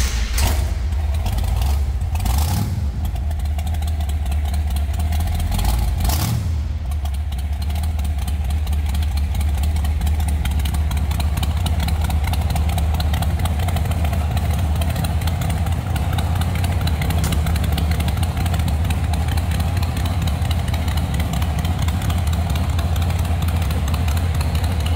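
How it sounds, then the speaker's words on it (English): A 1933 Plymouth five-window coupe street rod fires up close by and settles into a steady, rumbling idle that holds for about twenty-five seconds, with a couple of brief bursts near the start. "Should we fire it up? Let's turn it on, let that fuel pump run a little bit, let's fire this bad boy up."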